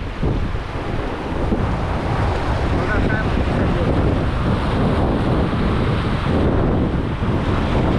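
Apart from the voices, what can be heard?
wind at the seashore while fishing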